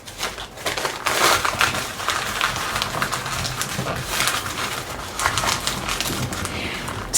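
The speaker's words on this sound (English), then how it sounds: "So when I scrunch these, I'm doing a couple of things. Scrunching looks like this." Paper being scrunched and crumpled by hand, a continuous close crackling and rustling with irregular crisp bursts, no speech.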